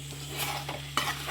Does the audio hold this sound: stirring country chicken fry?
yes